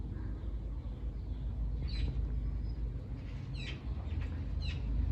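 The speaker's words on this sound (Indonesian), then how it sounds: "Ada suara kicau burung tapi dari kejauhan, dari pohon sana" Birds chirp faintly from distant trees in a Dutch village on an overcast summer day, a few short high calls rising over a steady outdoor hum.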